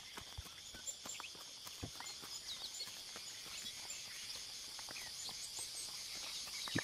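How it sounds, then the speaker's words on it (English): Cicadas sing in a sunny summer meadow, a faint, steady high-pitched buzzing drone that runs throughout, scattered with soft crunching footsteps on gravel and occasional light clicks. "making the cicadas sing."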